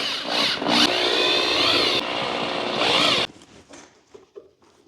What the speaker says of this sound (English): then once you've got it all in place, then tighten all the screws down